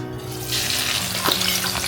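Continuous close sizzling of onions frying in hot oil in a kadai, with a brief stirring scrape midway.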